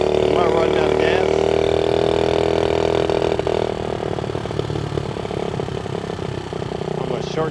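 A vintage Honda Z50A minibike's small engine runs steadily during a ride, a buzzing mid-pitched drone that holds even and then eases slightly lower in the second half, close and continuous.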